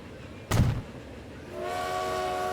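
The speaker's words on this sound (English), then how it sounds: "We got one of the trains upgraded. And they're carrying a full load of people." Trains in the video game Transport Fever, a sharp loud clank or thump followed a second later by a sustained tonal whistle-like drone as the train runs.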